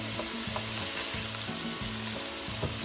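Hamburger patties fry in a pan with a constant close sizzle and crackle, a faint repeating hum running underneath, no talking.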